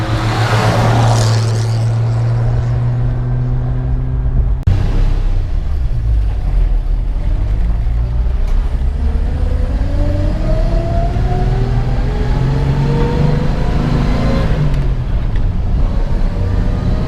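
A 1953 Chevrolet 3105 panel truck, an original survivor, is driven on the road, its engine rumbling loudly and revving up and down through gear changes with a steady rising and falling pitch, no talking.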